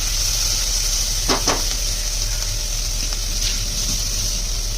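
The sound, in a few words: onion frying in a pan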